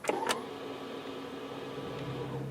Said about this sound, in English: That's the sound you hear in a Model 3 Tesla.